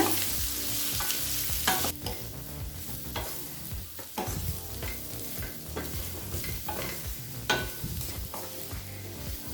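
Potatoes fry in a pan as ground pepper spice powder is stirred through them, a loud close sizzle broken by repeated scraping strokes of a spatula, with no talk.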